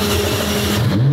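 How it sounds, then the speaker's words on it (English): A hypercar engine fires up from a start button, a steady mid-pitched engine note rising toward a higher, louder revving tone near the end, close and continuous with no talk. "I'm gonna hit the start button here."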